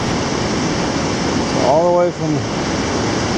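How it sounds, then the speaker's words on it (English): The Temperance River flows at its mouth on Minnesota's North Shore, a steady broad rush of water filling the scene, with a voice talking briefly over it. "there's the mouth of the Temperance River"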